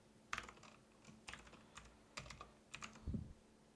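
Java code being typed on a computer keyboard: quiet, close clusters of key clicks in short bursts with brief pauses between them, alone without talk.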